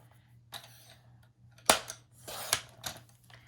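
Scissors cutting paper into one-inch strips, a few sharp snips spaced about a second apart, close but fairly quiet over a low steady hum.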